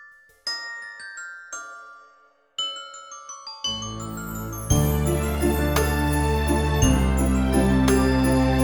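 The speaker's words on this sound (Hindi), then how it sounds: "सुनो कैसे घंटियां बजती" Bells in a Christmas song for children: a few chiming, tinkling bell notes ring out alone, then full music joins in, building into a loud, bright arrangement.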